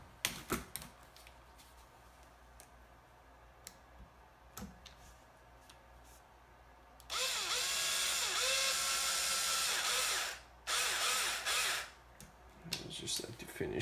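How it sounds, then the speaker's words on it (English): A power driver runs screws into the differential mount of a Losi LST XXL2-E 1/8 monster truck, whirring loudly in two sustained bursts after a stretch of quiet clicks and tool handling. "I can finish off with the power driver"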